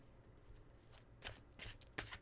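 Tarot cards shuffled by hand close up, soft riffling and a few crisp snaps of the deck in quick bursts, faint and intimate with no talking.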